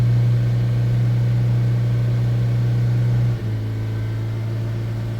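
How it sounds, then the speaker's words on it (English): A Nissan NV300 van's diesel engine running steady at raised revs, a constant loud drone with a brief dip in pitch near the end, no talking. "Let's just rev it a bit higher."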